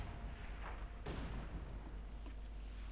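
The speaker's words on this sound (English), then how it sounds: "that mine going off" A land mine detonates in Company of Heroes 2, giving one sharp, loud blast with a short rumbling decay over faint battlefield ambience.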